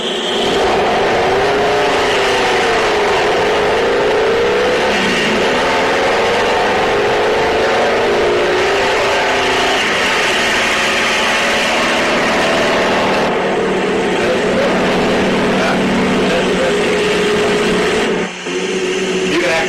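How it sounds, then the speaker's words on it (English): An HHO hydrogen-powered engine runs loud and steady, with a dense continuous roar and shifting whine, close up, and talk partly audible beneath it. "Now listen to the power of this engine."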